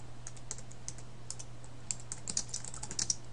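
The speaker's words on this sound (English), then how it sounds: "So here, I'm going to type" Fingers type quickly on a computer keyboard, a close, steady patter of small key clicks running without pause over a faint electrical hum, with no voices.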